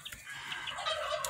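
Chickens cluck in a homestead brooder, a steady mix of close, overlapping clucks and chirps with a brief louder call at the end.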